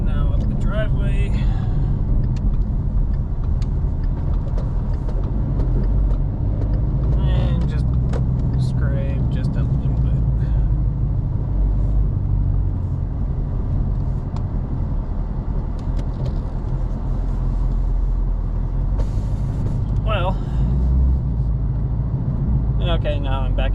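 A 2017 Ford Mustang GT S550 fitted with a welded cargo carrier creeping up a steep driveway, its engine a steady loud low rumble from inside the car, with scattered clunks and talking over it.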